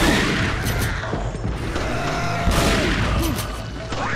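Shotgun fire in Resident Evil 4, several booming blasts mixed with mechanical clatter and other gunfire in a dense, busy game soundscape.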